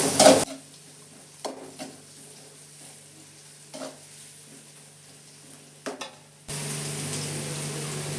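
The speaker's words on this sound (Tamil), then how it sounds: "இப்போ நான் கேரட் சேர்த்துருக்கேன்." Carrots being stir-fried in a pan for paneer fried rice, a soft steady sizzle with a few short stirring scrapes, nearby and moderately quiet, swelling into a louder broadband hiss near the end.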